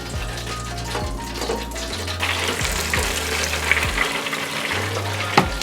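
Steady sizzling and crackling of chicken frying in hot oil, close up, with a low hum underneath and occasional sharp pops.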